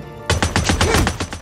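Rapid gunfire from the video game Days Gone, a close, loud burst of about eight evenly spaced shots after a brief quiet start.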